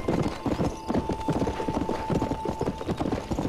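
Galloping horse hooves in the video game Red Dead Redemption, a steady, loud rhythmic clip-clop over a constant game background hum, with no talking over it.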